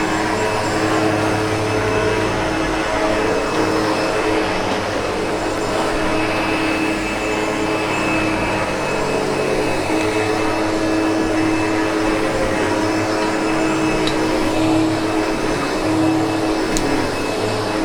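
A SEBO Automatic X7 Boost ePower upright vacuum cleaner runs steadily on carpet in a home, a loud continuous motor whine and airflow rush at close range that holds level throughout with no talking.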